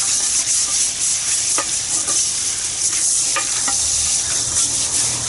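Water and a scrubbing brush work over the underside of a bonsai pot, a steady wet hiss with scattered short scraping strokes, close and continuous, no voices.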